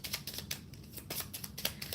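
Tarot cards being shuffled by hand, a quick run of soft, crisp riffling snaps and flutters close up.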